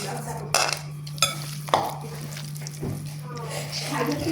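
Chopped tomatoes going into a pan for tomato bharta, with a few sharp clatters and stirring scrapes over a steady background hum while a person talks.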